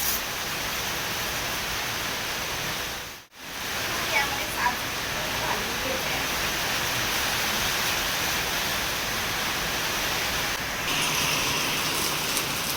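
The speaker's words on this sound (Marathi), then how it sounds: "हा असा तुफान पाऊस आता सुरू झालाय खूप जोराचा पाऊस आहे" Steady, heavy rain hissing continuously, with a brief drop-out partway through.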